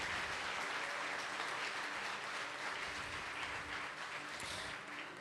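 Church congregation applauding during a worship service, a dense, steady wash of clapping that holds loud throughout and eases slightly at the end.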